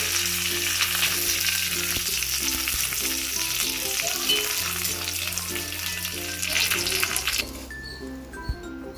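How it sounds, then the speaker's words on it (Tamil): Curry leaves fry in hot oil and are stirred into masala peanuts, a steady close sizzle with scraping stir strokes and rhythmic low clatter, ending in a quieter tail with a couple of faint clinks. "இப்போ அந்த பொரிஞ்ச கருவேப்பிலையை வேர்க்கடலையில் கொட்டிட்டு இன்னும் ஒரு கிளறி விடுங்க"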